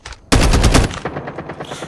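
Loud burst of automatic gunfire from a gun in a video game, a dense rapid volley lasting about half a second after a quiet start, then fading into lighter scattered shots and echoes.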